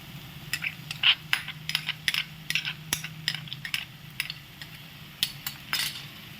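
A spoon stirs a pumpkin seed and cashew paste frying in a pan with ginger, garlic, onion and tomato for paneer gravy, producing a rapid series of light metallic clinks and taps over a faint sizzle, with no voices.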